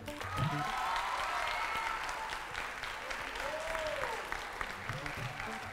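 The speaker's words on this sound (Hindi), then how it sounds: "गाइज सिर्फ तालियां बजाएंगे" Steady applause from a game show audience at a dance competition, sustained throughout with some voices and whistling mixed in.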